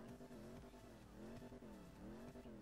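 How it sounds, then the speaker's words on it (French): A Ford Capri Zakspeed stock car engine in the video game GTA V revs continuously, its pitch rising and falling in steady waves, loud and close over a steady driving roar. "avec le petit bruit du moteur qui est vraiment sympatoche"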